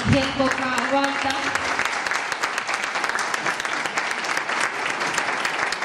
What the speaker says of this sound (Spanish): Yo les pido un fuerte aplauso de agradecimiento al profesor Ángel Coca Balta,